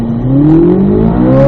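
A Chevrolet Corvette C8 Z06 launches at high RPM, its engine rising in a loud, steady, close-up roar over a second and a half, with no talking.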